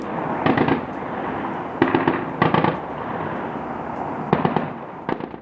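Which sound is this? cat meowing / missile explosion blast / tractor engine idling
missile explosion blast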